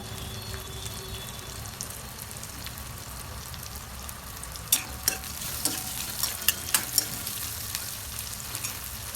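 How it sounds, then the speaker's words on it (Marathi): Onion fries in a pan with mustard seeds, making a continuous crackling sizzle; partway through, a run of crisp spoon scrapes and knocks breaks in as it is stirred. "कांदा टाकलाय कांदा चांगला फ्राय करून घ्यायचा"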